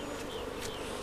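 Africanized honeybees buzzing around a hive, a dense continuous droning hum, steady and close.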